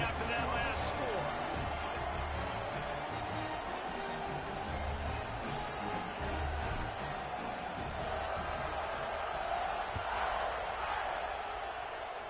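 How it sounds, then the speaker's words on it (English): A football stadium crowd at an NCAA Notre Dame versus Texas game buzzes steadily after a touchdown, a dense, distant roar of voices with a commentator talking over it. "this crowd is buzzing after that last score"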